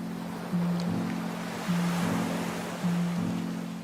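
Steady surf washes in at a quiet beach town in Canton Province, a continuous soft roar with a low droning hum rising and falling in a slow repeating pattern.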